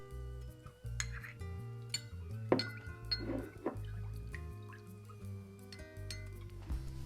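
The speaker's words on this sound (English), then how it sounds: "Combine the plant-based milk and melted vegan butter together." Plant-based milk and melted vegan butter poured together for vegan cornbread, quiet trickles, drips and light clinks of glass and utensils in a kitchen, with intermittent small taps.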